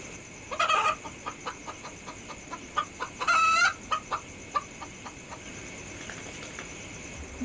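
Chicken clucking heard alone at a farm-like setting: short, close clucks spaced through the stretch, with two louder, longer bursts of squawking clucks standing out, against a quiet background hum.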